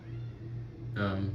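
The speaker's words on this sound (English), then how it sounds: "Excuse the cat, he's gonna be screaming a little bit." House cat calls for attention indoors, with one loud, drawn-out meow close by that rises near the end over a low background hum.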